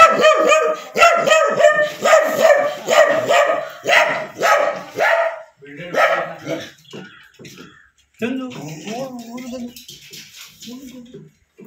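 Several dogs bark in rapid bursts nearby, loud and repeated, then fade into scattered yips and whimpers.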